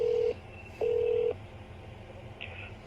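A phone call being transferred to voicemail, heard as two steady electronic line tones, one short and one longer, followed by a faint higher beep, with no voices.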